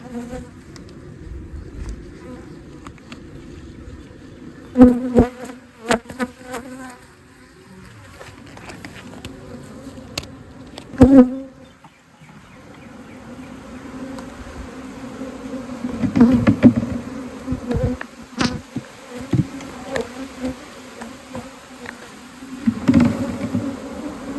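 A dense swarm of honeybees hums and drones continuously as they are shaken from a hive at sunset, with occasional sharper bumps and thuds as the hive is jostled, the buzzing rising and falling.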